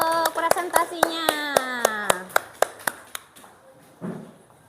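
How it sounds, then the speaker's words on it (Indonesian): Classroom applause after a student presentation: a dozen sharp, evenly spaced hand claps ring out over a teacher's speaking voice, then thin out to a few scattered claps and a short remark. "berikan tepuk tangan untuk presentasinya"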